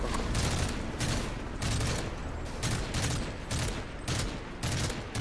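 Sustained rapid gunfire in a video game as players shoot at aircraft, a dense loud rattle of overlapping bursts pulsing steadily throughout with no pause.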